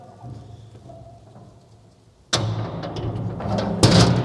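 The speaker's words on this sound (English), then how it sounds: "the door is shut" A tornado shelter door on a bunker and root cellar swings shut after a quiet stretch, landing with one sharp loud bang and a clattering rattle, then a second knock near the end inside an echoing space.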